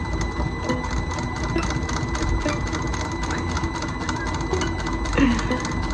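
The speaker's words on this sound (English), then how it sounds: "hopefully this will just sew a beautiful little piping with fabric on it" A sewing machine stitches fabric piping in a steady, fast mechanical chatter that runs the whole time, close and continuous, with no pauses.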